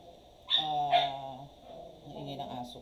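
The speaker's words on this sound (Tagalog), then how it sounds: "ang ingay ng aso ko." Dog barks and whimpers in a short burst of yelps and whines indoors, close and fairly loud, followed by softer whimpering.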